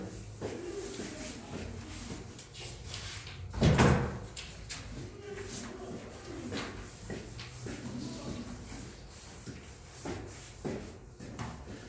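A door in a tutoring classroom is shut once, a single sharp thud in the middle of steady room noise, with a voice faintly audible around it.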